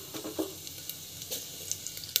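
Mustard seeds and cumin sizzle in hot oil in a pan, a faint crackling fizz with small scattered pops, close and quiet with no voices.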